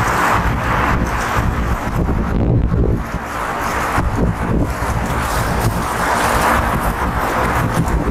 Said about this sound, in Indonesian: Tapi anginnya cukup kencang dia.